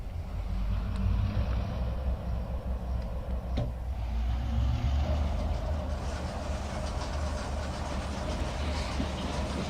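Diesel locomotive in the Trainz railroad simulator releasing its brakes and starting to roll, a low steady rumble with a brief sharp hiss of air partway through, continuous and fairly quiet with no talk.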